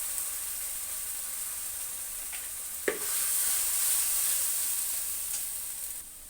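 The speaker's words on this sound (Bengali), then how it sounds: "মশলা কষাচ্ছি" Tomato paste, chili paste, turmeric and salt sizzle steadily in a pan for a hilsa curry, a continuous close frying hiss with one sharp clink of stirring partway through.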